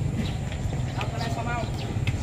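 Horse hooves clip-clop steadily on the street as a horse-drawn kalesa passes at a Baluarte park in Ilocos Sur, under constant outdoor crowd noise and nearby talking.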